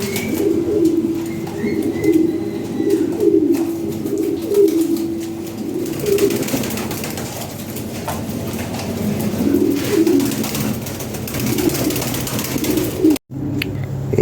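Lahori pigeons for sale coo steadily in a repeating low, throaty rhythm, close and fairly loud, with occasional wing flutters and a brief dropout near the end.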